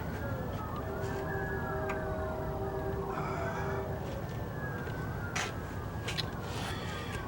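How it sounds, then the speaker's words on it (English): A wailing siren in the distance, its pitch rising and falling over steady background rumble, with a few faint clicks nearby. "Sirens in the back always help."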